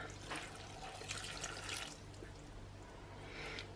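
Brewed tea, about half a pint, poured over raisins in a bowl for an Irish raisin bread, a soft steady trickle of liquid close by, faint and continuous with a slight swell near the end.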